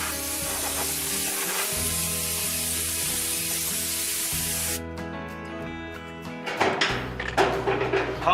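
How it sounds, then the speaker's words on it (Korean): A compressed air spray blows grinding dust off a floor, a loud, steady hiss lasting several seconds before it cuts off and gives way to scattered clattering and knocks. "자, 에어스프레이 한번 쑥 쏠게요"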